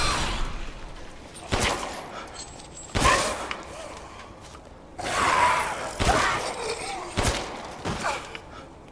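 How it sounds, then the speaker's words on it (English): Resident Evil Village gameplay gunfire: several sharp, loud shots come at spaced intervals, each with a short decaying tail over quiet background ambience. "I'm gonna have to shoot it"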